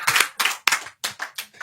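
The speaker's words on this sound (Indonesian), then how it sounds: "Tepuk tangan buat COVID." Several sharp, separate bursts of clapping from a small studio audience on a talk show, five or six short rounds in quick succession, close and fairly loud with brief silences between them.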